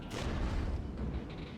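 Distant artillery fire in a Cold War tactical battle against East German forces, a dense rumbling boom with rolling low-end thunder that swells and fades over a second and a half.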